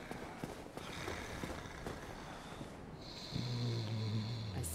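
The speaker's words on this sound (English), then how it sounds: "I think Frampt is snoring." Frampt, a huge creature in the Dark Souls video game, snoring in slow, faint, rhythmic breaths, followed by a louder steady tonal hum near the end; no one talks.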